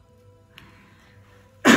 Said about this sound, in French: je tousse beaucoup aujourd'hui